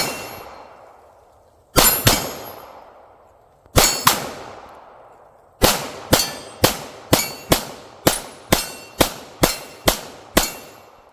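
A Glock 34 clone competition pistol fires sharp, loud, close shots outdoors: two spaced single shots, then a rapid, evenly paced string of about a dozen more, each followed by a short ringing decay.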